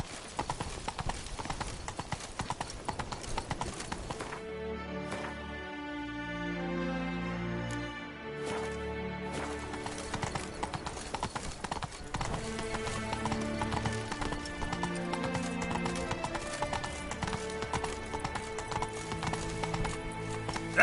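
The horse Roach trots in a video game, with rhythmic hoof clip-clops running throughout under layered game music and ambient sound, and a whinny briefly audible.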